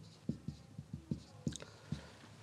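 Pen or marker writing by hand on a board, a series of short, distinct scratchy strokes in an irregular rhythm, close and moderately quiet with no voices.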